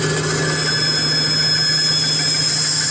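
A bandsaw cutting wood, giving a loud, steady, uniform motor hum and whine with a constant drone and no breaks or changes across the whole stretch.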